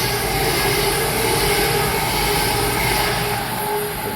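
An Avanti West Coast train on the West Coast Main Line at Bushey rushes past close by, a loud continuous broadband roar with steady whine, sustained for several seconds with no talking.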